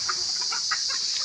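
Desi hens on a small backyard poultry farm, kept for eggs, give a few short, soft clucks over a steady high background hiss, fairly distant and scattered across the moment.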